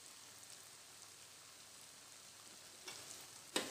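Potato pieces fry in hot ghee with a faint, steady sizzle, broken near the end by a couple of sharper crackles.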